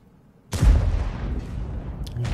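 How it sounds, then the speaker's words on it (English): Heavy tank cannon fire in the World of Tanks video game: a sudden loud boom followed by a sustained rumbling roar of distant exchanged shots along a passage, with a few faint sharper cracks later, no voices. "You can see there's some big shots being exchanged along the West Passage"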